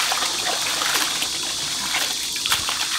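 Young radish greens washed by hand in a basin of water, a continuous close sloshing and trickling with small splashes as the leaves are rubbed and rinsed.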